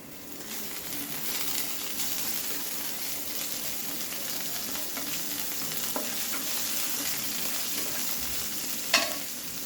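Cumin seeds and chopped green chillies frying in hot oil for a Gujarati spring onion sabzi, a steady close sizzle with faint crackles and one brief sharp clink near the end.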